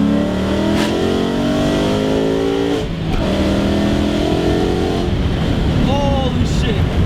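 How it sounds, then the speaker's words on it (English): A Coyote 5.0 V8 swapped into a 2001 Ford Mustang GT roars loudly as it accelerates hard, rising in pitch through gear changes, with a brief lull before it revs up again. "Let's see this Coyote in action."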